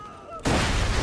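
A gun explodes in Borderlands 2: after a brief quiet moment, a sudden loud blast bursts out and keeps roaring as a harsh, crackling wall of noise to the end.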